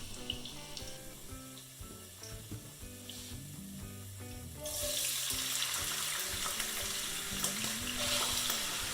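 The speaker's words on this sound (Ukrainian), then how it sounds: "Зливаю всю воду з виділеним крахмалем" Starchy water drains off cut potatoes in a home kitchen. After a quieter start with soft background tones, a steady rushing pour begins about halfway and continues strongly to the end.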